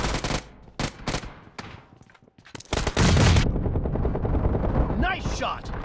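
Gunfire in a multiplayer shooter video game: sharp separate shots, then a dense sustained burst of automatic fire with whooshing effects, loud and close, mixed with in-game voice announcements.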